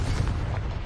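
The Confringo fire spell in Hogwarts Legacy goes off as a single deep, rumbling blast that lasts under a second.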